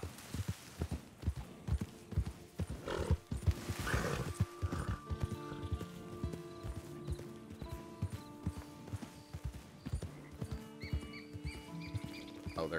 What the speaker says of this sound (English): am I able to ride that horse?